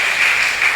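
A church congregation claps and cheers in a dense, loud wash of applause that fills the whole moment.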